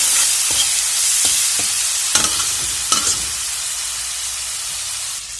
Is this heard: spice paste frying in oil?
yes